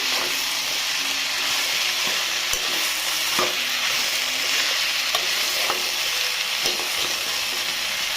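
Pumpkin palya being stirred as it fries in oil in a pan, a constant close sizzle with intermittent scraping taps of the spoon against the pan.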